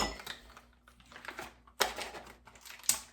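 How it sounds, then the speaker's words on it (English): Knife or scissors cutting open a plastic corned beef package, with crinkly rustling and a few sharp snipping clicks, close and fairly quiet. "I'm just going to cut this open."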